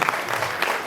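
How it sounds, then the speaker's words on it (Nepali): An audience claps at a film festival event, a brief burst of steady, moderately loud applause from a crowd in a hall. "यो पनि ताली पिट्ने कुरा थियो"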